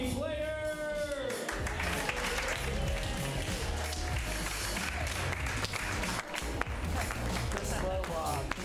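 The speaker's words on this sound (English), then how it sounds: "Jealous round of applause for Leonie" A comedy-show audience at Curious Comedy claps loudly and continuously with cheering, a whoop rising at the start, the thick crowd noise sustained throughout.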